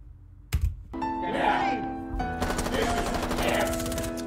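SMG gunfire in Rainbow Six Siege, fired by an operator with an invisible shield during a Clash glitch; a sharp shot, then sustained rapid automatic fire with ringing tones over a busy game mix.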